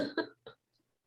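Two short, harsh coughs in quick succession close to the microphone, followed by silence.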